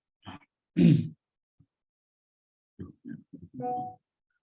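A few short, rough throaty bursts, like coughing or throat clearing, close by and separated by silence, ending in a low groan.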